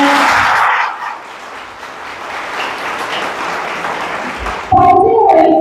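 An audience at a seminar in Bhag Singh Khalsa College applauds, a broad wash of clapping that swells, dips and holds steady for several seconds before a voice cuts in at the end.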